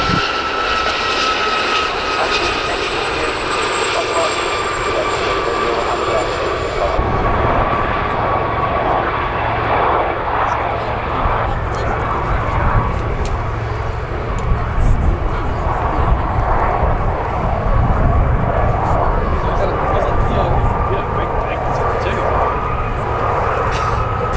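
Gazelle helicopters fly a display at RAF Cosford Airshow, a continuous loud rotor and turbine roar that shifts in pitch as they pass, with a public-address voice talking over it.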